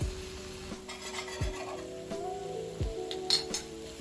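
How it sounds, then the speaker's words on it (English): Two eggs whisked in a bowl for kimchi fried rice, a steady run of quick clinking utensil strokes against the bowl, close and moderately loud with no talking. "I have 2 eggs in this bowl that I'm whisking up"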